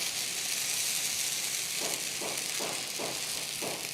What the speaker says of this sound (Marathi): तव्याच्या मधोमध पीठ घालायचं आणि लगोलग हे पसरवून घ्यायचं.